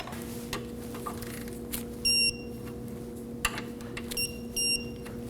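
An electronic torque wrench tightens nuts to 8 foot-pounds during a CV axle replacement on a 2016-2020 Kia Sorento. Short high-pitched beeps sound in two brief clusters over a low steady hum and faint clicks.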